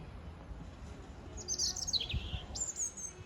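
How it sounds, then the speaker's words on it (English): A robin sings faintly in the distance, giving a couple of short, high, thin warbling phrases over quiet background noise. "that was a robin that you could hear"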